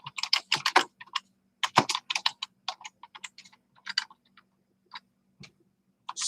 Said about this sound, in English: Sorry, I'm not the fastest typer.